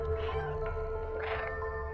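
A cat meows a couple of times in the video game Stray, short tonal cries over a low electronic hum, close and moderately quiet.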